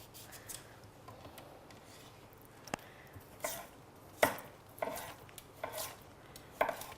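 Lemon sliced with a knife on a cutting board: quiet, sparse sharp chops and taps land irregularly, several distinct cuts against a faint, calm background with no voices.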